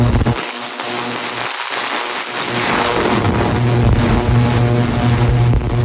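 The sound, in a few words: fuel injectors firing on a test bench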